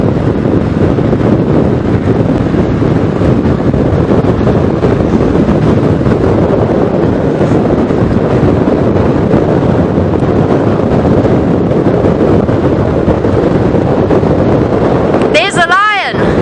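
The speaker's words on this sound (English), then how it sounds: "I wonder what this wind is bringing." Strong, steady wind blows over a safari airstrip, a loud continuous roar of buffeting across the whole stretch with no letup or gusts.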